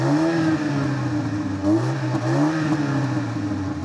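A 2022 MINI Cooper S Countryman engine pulls hard under acceleration, a loud, close, steady growl whose pitch wavers up and down over a few seconds with no talk.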